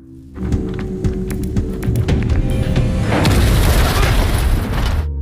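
A loud, booming explosion in Squid Game 2 bursts in, followed by a heavy sustained rumble and a second surge of crackling debris partway through.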